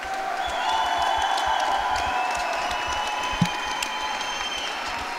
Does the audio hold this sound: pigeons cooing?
no